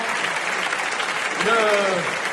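A theatre audience at a comedy show applauds in a steady roar of clapping, with a voice briefly speaking over it near the end.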